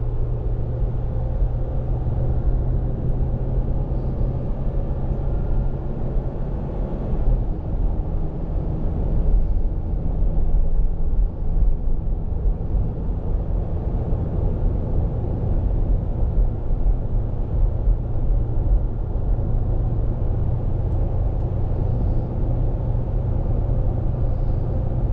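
A 2020 Ram 1500 EcoDiesel pulling at full throttle while towing a Kubota, heard from inside the cab as a dense, steady low rumble and drone of engine and road noise without a break.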